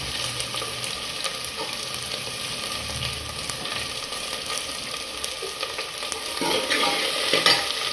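Sliced onion, with curry leaves, fries on a high flame for a chicken dish, a steady broadband sizzle with occasional stirring scrapes, close and continuous, slightly louder near the end.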